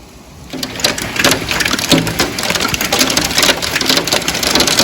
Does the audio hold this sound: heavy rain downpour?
yes